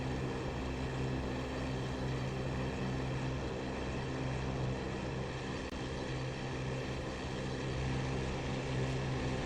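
A Focke-Wulf Fw 190 D-9 propeller fighter drones steadily in flight in a flight simulator game, its engine a constant loud buzzing hum with no talking.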